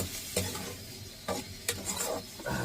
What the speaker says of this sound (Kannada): ಚಿತ್ರಾನ್ನ ಮಾಡ್ಕೋತಾ ಇದ್ದೀನಿ.